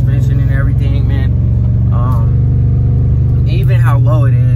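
A lowered Chevrolet Impala on full coilover suspension drives along, its engine and road noise forming a steady, loud low drone inside the cabin throughout, with a few brief higher sounds over it.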